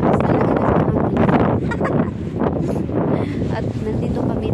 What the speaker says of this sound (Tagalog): Lakas talaga na sa hangin.